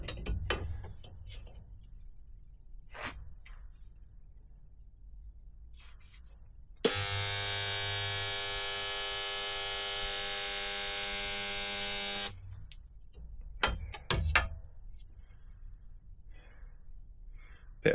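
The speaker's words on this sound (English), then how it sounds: "I'm going to give it a go with the spot welder to see if it actually works." A spot welder being tested on metal gives one loud, steady electrical buzz lasting about five seconds, standing out between quiet workshop handling noises and a few faint clicks before and after.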